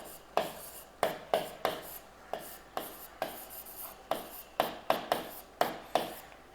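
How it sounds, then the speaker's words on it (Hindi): Chalk or marker strokes on a classroom board, about fifteen sharp, regular taps and scrapes spaced roughly half a second apart, close and clear with no talking. "तो यहीं पे कहीं लिखेंगे कि अमीर खुसरो"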